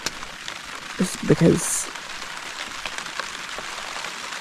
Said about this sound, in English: it's supposed to stop drizzling here in a little bit